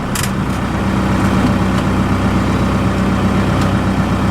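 A Ford F150 truck swapped to a 4BT Cummins diesel runs close and loud with a steady, low, rumbling drone, a few light clicks above it and no talk.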